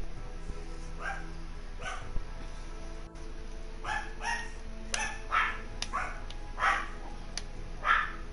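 Dogs bark sharply about a dozen times in quick, uneven bursts, fairly close and loud, over a steady background hum from a GTA game session.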